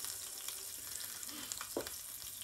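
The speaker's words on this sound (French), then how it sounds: "on va faire chauffer de l'huile dans une casserole et on va saisir 4 steaks des deux côtés, bien grillés" Four beef steaks sear in hot oil in a saucepan, giving a steady faint sizzle and crackle with a few soft stirring scrapes and no talking.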